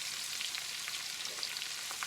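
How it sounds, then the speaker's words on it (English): Dandelion greens sizzle and crackle steadily in hot bacon grease, a soft continuous frying hiss with small pops. "frying it in bacon is how I fix almost all of my vegetables."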